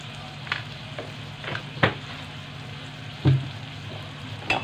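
Chopped tomatoes and cabbage fry in a hot pan with a continuous close sizzle, broken by several sharp scrapes and clatters as a spoon stirs the vegetables, with no talking.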